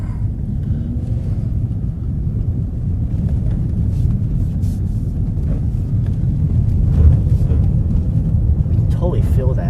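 A Ford car drives over icy snow, giving a steady loud low rumble of engine and tyres with wind buffeting throughout, close and continuous.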